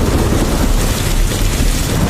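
Heavy rain pours down in a thunderstorm strong enough to nearly flood the streets, a loud, dense and unbroken roar of downpour with low rumbling beneath it.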